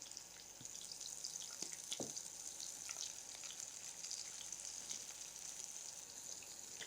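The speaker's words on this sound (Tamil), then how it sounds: "இந்த கேப்சிகம் கொஞ்சம் சீக்கிரமாக ஃப்ரை ஆகிறதுக்காக கொஞ்சமாக உப்பு சேர்த்துக்கலாம்." Capsicum frying in a pan with a little salt gives a steady soft sizzle, with a few faint clinks and stirring scrapes near the start, continuous and fairly quiet with no voices.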